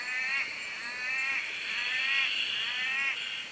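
Male orange-thighed tree frog calling in a steady run of rapid, high-pitched trilled pulses, close and fairly loud, with other tree frogs faintly calling behind.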